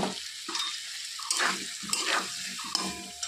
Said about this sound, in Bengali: তো মশলাটাকে ভালো করে একটু ভেজে নেব।